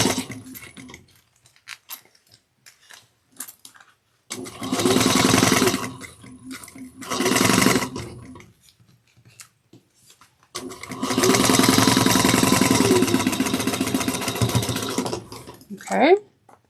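A sewing machine stitches fabric in loud bursts of fast, buzzing, rattling runs, with short and long stretches separated by pauses filled with quiet handling noises and a woman's speech.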